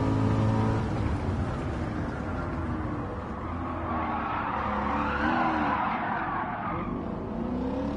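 A car in Gran Turismo 7 braking hard into a corner, with a sustained tire squeal and skid over a rumbling engine note, loud and continuous, no voices.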